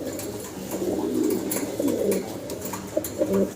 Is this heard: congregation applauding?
no